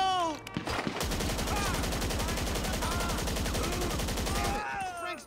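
Sustained automatic gunfire in GTA Online, a dense rapid burst of shots lasting several seconds, loud and close, with shouting voices heard before and after the shooting.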